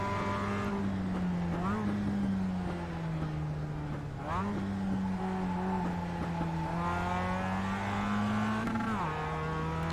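Mazda MX-5 Cup race cars at Tsukuba Circuit in iRacing give a loud, continuous engine drone that climbs steadily in pitch, then dips sharply at each gear change, with several cars close together.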